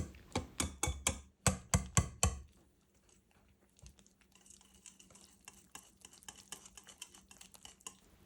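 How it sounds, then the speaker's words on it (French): A hand whisk stirs a smooth starch-thickened lemon cream filling in a bowl, giving a quick run of sharp rhythmic taps at first, then softer scattered clicks and scraping. "mélange simplement à l'aide d'un fouet manuel jusqu'à obtenir une crème bien lisse"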